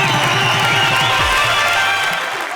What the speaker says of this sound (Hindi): इनके लिए एक बार जरा जोरदार तालियां